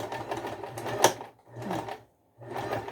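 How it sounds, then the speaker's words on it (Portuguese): A sewing machine stitches fabric in short, fast runs separated by brief pauses, close and moderately loud, with a sharp click in the middle and no talking. "Pezinho de máquina e costurar."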